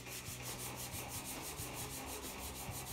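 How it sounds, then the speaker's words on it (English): Steady rubbing of 220-grit sandpaper wrapped on a paint stick, flat-sanding primer on a repaired fender of a 1947 Ford street rod, with a close, continuous rhythmic back-and-forth scrape. "decided to use a paint stick instead with a little bit of 220 on it"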